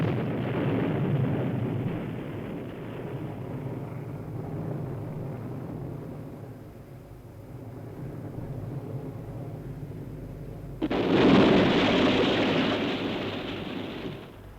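Atlas rocket launch ending in an explosion, heard as a long, heavy roar that rumbles and fades for about ten seconds. A sudden louder, broader blast then breaks in and holds until the end.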